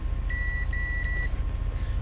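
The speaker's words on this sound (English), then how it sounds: "we hear a little beep" A multimeter in continuity test mode gives a steady high-pitched electronic beep, broken by a brief gap, as its two test leads are touched together. The beep is loud and close over a low background hum, with no talking.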